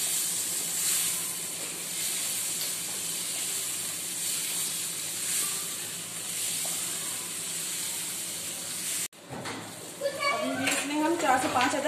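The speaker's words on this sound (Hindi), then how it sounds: "टमाटर फ्राई करेंगे।" Chopped tomatoes frying in a pan, with a steady sizzle and hiss throughout, then a louder burst of stirring and spattering near the end.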